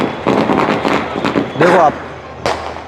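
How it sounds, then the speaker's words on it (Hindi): Fireworks go off on the night of 12 Rabiul Awwal in a Muslim neighborhood, with a sharp bang and scattered crackles under a man's close, continuous talking. "इस तरह की आतिशबाज़ी 12 रबीउल अव्वल को मगरिब के बाद से लेके जो आधी रात तक चलती है"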